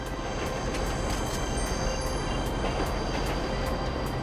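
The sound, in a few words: train passing in video game Grand Theft Auto V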